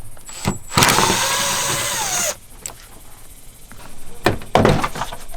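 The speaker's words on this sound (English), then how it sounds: "The thing we've got to do is remove this 10mm bolt here." Power tool loosening a 10mm bolt on a Toyota 4Runner, a loud sustained whirring burst of about a second and a half, followed by quieter clunks and a second short mechanical burst near the end.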